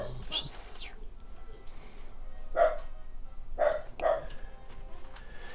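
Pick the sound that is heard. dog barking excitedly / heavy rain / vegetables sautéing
dog barking excitedly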